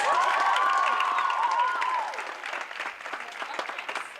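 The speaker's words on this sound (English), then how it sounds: "Let's give Alice one more round of applause" Audience applause at a school talent show, dense crowd clapping mixed with cheers and whoops, loud at first and easing slightly while it keeps going throughout.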